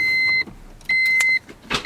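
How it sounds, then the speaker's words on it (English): A Honda Civic Si is switched on, giving two steady electronic chime tones with a short gap between them, followed by a brief whirring click and then the chime again, close and clear. "I have to actually put power to the car for that. So let's turn it on."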